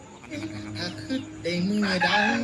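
Fighting roosters at a farm cluck and let out crowing calls close by, several overlapping birds growing louder toward the end, while someone talks over them.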